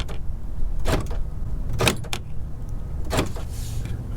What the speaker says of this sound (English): if I push the lock and unlock